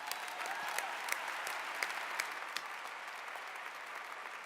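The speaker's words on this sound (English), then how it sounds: "let's give this class that's worked so hard for this moment a big round of applause" Sustained applause from a large commencement audience honoring a graduating college class, an even roar of many hands heard at a distance, with a few sharper individual claps popping out of the wash.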